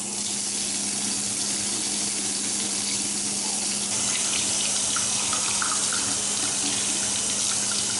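Tap water runs steadily into a sink while paint brushes are rinsed clean with hand soap, a loud continuous splashing rush with a faint low hum beneath and no talking.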